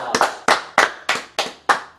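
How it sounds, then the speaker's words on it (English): A small audience claps in about seven spaced, crisp bursts, close and fairly loud, sounding like a few people clapping rather than a full crowd. "give him a round of applause."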